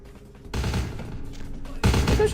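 Gunfire in the vampire action game Vampire The Masquerade, with dense bursts of shots from several attackers and a louder volley near the end.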